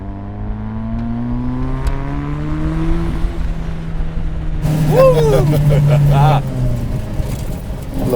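Modified 1972 BMW 2002 Turbo with an M42 engine and about 350 wheel horsepower accelerates hard, its engine note rising loud and close through the gears before voices start talking.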